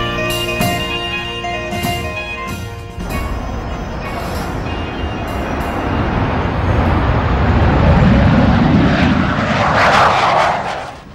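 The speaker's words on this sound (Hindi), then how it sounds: "सारा शोध और विकास, सारी नई सोच, सारी मेहनत का नतीजा ये जबरदस्त विमान है जो अब सक्रिय सेवा के लिए तैयार है।" An LCA fighter jet roars loudly overhead, its engine rumble building and swelling to a peak toward the end before easing off; a brief musical tone sounds at the start.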